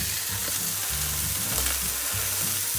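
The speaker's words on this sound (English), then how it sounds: "Oh, that's getting seared so beautifully." Fish sears in a hot frying pan for a Mediterranean recipe, a continuous close sizzle and crackle with soft stirring clatter, with no voices.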